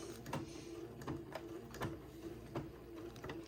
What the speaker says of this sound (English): using a straight stitch, let me move my friction erasable pen out of the way, I'm going to sew this Swiss insertion panel